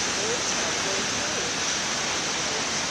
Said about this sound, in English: These waves aren't monsters. They're not 40-foot tsunamis.